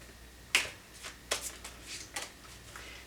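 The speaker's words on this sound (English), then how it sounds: "These cards, every time I shuffle them, they just want to fly" A deck of tarot cards is shuffled up close, with three or four sharp riffling bursts separated by short pauses and softer card slides between them.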